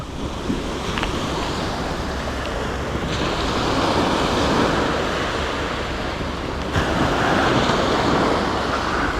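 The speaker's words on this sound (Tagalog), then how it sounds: "Hoy, ang ganda ng dagat, tol." Continuous roar of sea waves breaking and washing in, loud and broad, with swells rising and falling and wind mixed in.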